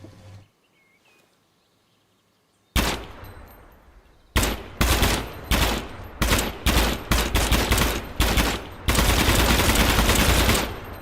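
An AK rifle with redwood furniture in Gunsmith Simulator fires on full automatic after a quiet start: a long loud burst, then a string of short rapid bursts, and a final sustained stream of shots.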